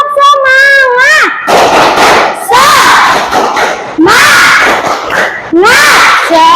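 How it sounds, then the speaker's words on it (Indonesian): A classroom of students performs a rhythmic clapping chant led by a teacher. The teacher's voice calls out first, then loud bursts of group claps and shouts follow in repeated waves. "Oke, sekali lagi tepuk semangat."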